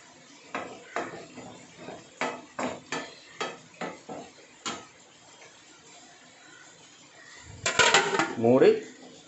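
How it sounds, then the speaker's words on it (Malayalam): Metal pots and a lid clank in a home kitchen as a pan is covered to cook: about a dozen sharp knocks spaced through the first half, a pause, then a louder, busier clatter of metal near the end. "ഇതൊരു 10 മിനിറ്റ് മൂടി വെച്ച് നല്ലോണം വേവിക്കാം"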